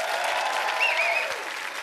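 A studio audience at a live music television show claps warmly and steadily, dense and close. A brief whoop rises above the clapping.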